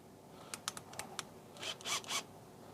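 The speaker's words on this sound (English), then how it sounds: "As you can hear the clicking, it means it's locked in place." A Bosch Professional 4-in-1 toolbox attachment clicks as it locks into place, a quick series of small sharp plastic clicks followed by a short scraping slide, close and quiet.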